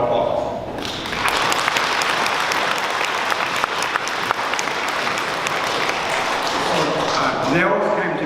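A presentation audience breaks into a sustained round of applause, dense and steady from about one second in, with a voice speaking over the clapping near the end.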